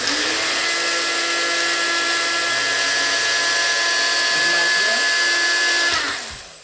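Blender grinding baked citrus peels and eggshells, a loud steady high-pitched whir that runs continuously for about six seconds, then winds down and stops.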